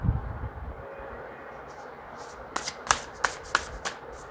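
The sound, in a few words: shuffling tarot cards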